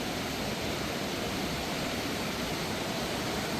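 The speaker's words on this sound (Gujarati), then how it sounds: "જો અહીંયા મસ્ત જો છે ને મસ્ત ધોધ પડે છે જોરદાર." Dense, unbroken roar of the Cascada Lotrisor waterfall in Romania, heard up close as a loud, even wash of cascading water throughout, with no talking.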